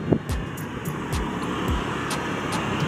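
A drone flies in strong wind over a new toll road, heard as a steady broadband whirring roar with faint distant traffic beneath it.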